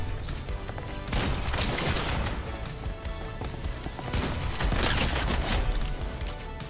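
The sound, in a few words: minigun firing in a video game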